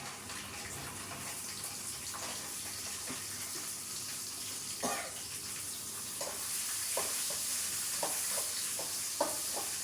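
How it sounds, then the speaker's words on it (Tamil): Chilies frying in hot oil with urad dal, chana dal, garlic and cumin, a steady close sizzle with scattered scraping stir strokes that get busier toward the end; no talking. "மிளகா கொஞ்சம் போட்டு ஃப்ரை பண்ணுவோம்"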